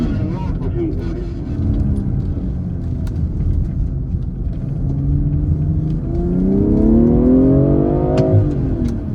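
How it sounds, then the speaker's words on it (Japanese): A BMW M340i inline-six petrol engine revs up under hard acceleration, the smooth rising drone climbing steadily in pitch toward the end, close and loud. "M340i の直列6気筒ガソリンエンジンを踏み込んだ時の音を紹介"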